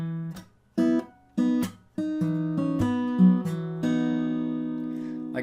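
Acoustic guitar plays the closing part of a song's riff, clipped plucked notes with percussive slaps giving way to sustained ringing strings that fade out, close-miked with no speech.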